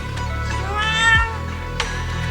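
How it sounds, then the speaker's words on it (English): In the video game Zenless Zone Zero, a cat gives a drawn-out meow, loud and close over a steady background tone, with no voices. "Bro, the cat."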